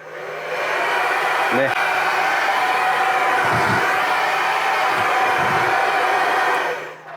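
A hair dryer powered from a camper van's inverter runs with a loud, steady whooshing hum from start to finish, with a few brief murmurs of a voice underneath.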